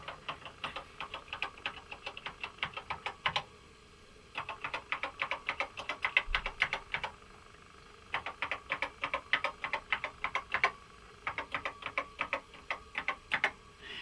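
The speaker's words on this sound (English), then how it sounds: "If I start typing on here," Rapid bursts of crisp clicking keystrokes on a TRS-80 computer keyboard, coming in runs separated by short pauses, close and fairly quiet.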